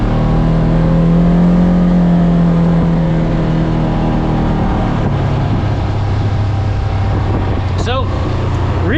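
A 2026 Polaris RZR Trail Ultimate side-by-side engine revs loudly and steadily, its pitch rising and falling close to the microphone, with speech over part of it.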